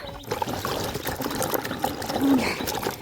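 Water runs and splashes while homegrown potatoes from a kitchen garden are rinsed, a close, steady pouring trickle that swells slightly toward the end.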